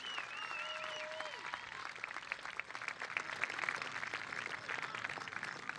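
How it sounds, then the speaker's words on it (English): A crowd claps at a TORC off-road truck race at Bark River, a steady wash of distant applause over an outdoor setting, with whistles and tonal sounds over the clapping early on. "Please give them a big, huge round of applause of thank you"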